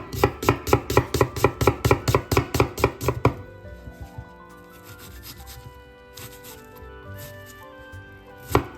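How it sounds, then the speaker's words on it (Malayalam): A knife chops onion on a cutting board in a home kitchen, about fifteen quick, evenly spaced thuds close up, then stops and gives way to quiet handling noises and a last knock. "നമുക്ക് നമ്മുടെ സബോളനെ ഒന്ന് ചോപ്പ് ചെയ്തെടുക്കാം കേട്ടോ."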